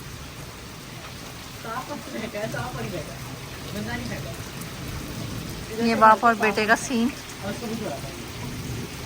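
Steady rain hisses in the background around 4 pm while people bathing in it talk over it, one voice rising louder partway through.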